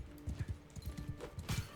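A sumpter horse's hooves clip-clop in Mount & Blade 2 Bannerlord, a quick, close, steady run of soft thuds over a couple of seconds.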